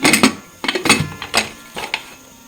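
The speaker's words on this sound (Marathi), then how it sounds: "आता आपण लावूया कुकरचं झाकण" Several close metallic clanks and scrapes in quick bursts as a heavy pressure cooker lid is fitted and twisted onto the cooker.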